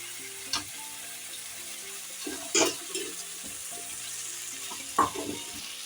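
Crab pieces drop into a hot pan for a crab and potato curry, giving a low, quiet sizzle with a few sharp clinks and stirring scrapes scattered throughout.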